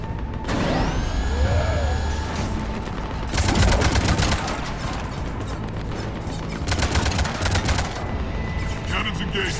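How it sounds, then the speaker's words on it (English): Ship cannons fire in the video game Mass Effect 3 in dense bursts of rapid booming shots over a rumbling mechanical and electronic game soundscape, loud and close. "Cannons engaged."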